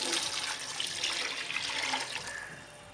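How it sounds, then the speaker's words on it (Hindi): Water pours steadily into a pot of fried chicken and vegetables for a hot and sour soup, a close, continuous splashing gush that fades slightly toward the end. "थोड़ी देर फ्राई करने के बाद अब इसमें पानी शामिल कर देंगे।"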